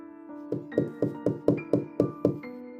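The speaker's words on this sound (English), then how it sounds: "The tapping started again." Eight evenly spaced taps on a window ring out one after another at a steady, unhurried pace over a sustained, eerie musical drone.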